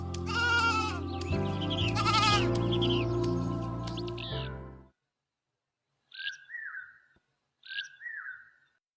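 Cartoon sheep bleat in a string of loud, wavering, repeated cries in an animated story, followed after a pause by two short, higher bird-like chirps.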